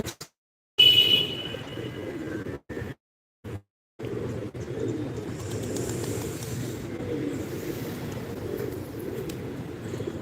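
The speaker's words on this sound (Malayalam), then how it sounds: "പ്രാവുകൾ വെള്ളം കുടിക്കുന്നുണ്ട് പിന്നെ അതുപോലെ തന്നെ ഭക്ഷണവും കഴിക്കുന്നുണ്ട്" Pigeons gather nearby while drinking water and eating, giving soft cooing and faint pecking and shuffling over a steady background hum, broken by a few abrupt gaps of silence near the start.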